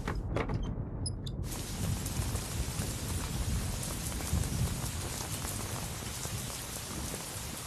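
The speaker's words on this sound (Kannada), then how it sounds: "ಏನು ಈ ಪಾಟಿ ಮಳೆ ಸುರಿತಿದೆಯಲ್ಲಪ್ಪ ದೇವ್ರೇ" Heavy rain pours down in a dense, steady hiss that is loud and constant throughout, with no voices.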